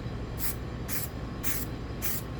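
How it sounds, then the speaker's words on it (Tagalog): Spray paint sprayed onto a stencil in four short hissing bursts, evenly spaced and close, over a low background hum. "Paligyan mo natin itong spray paint natin."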